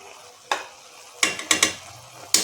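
A spoon stirs ghee in a pan while making amla laddu, a few sharp scraping and clattering strokes at irregular intervals over a faint sizzle, close and otherwise quiet.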